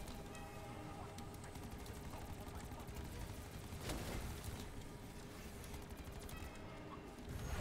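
Rapid gunfire rattles in the Call of Duty zombies mode aboard the Voyage of Despair ship, dense automatic bursts with a louder volley midway, under quiet background voices.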